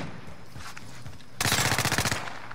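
A rapid burst of automatic gunfire from a PPSh in the video game Warzone erupts after a quieter stretch of game ambience, sharp regular shots fired in quick succession.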